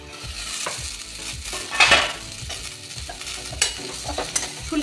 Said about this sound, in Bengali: ফুলকপি, গাজর, বিট সব ভাজা হয়ে গেছে, খুব সুন্দর করে ভাজা হয়ে গেছে।